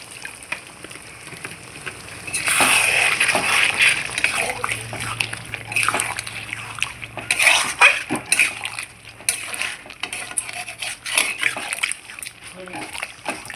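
Water splashes into a pot of spicy chicken curry, followed by sloshing, stirring and metal utensil clinks against the pot, with a voice talking over the kitchen sounds.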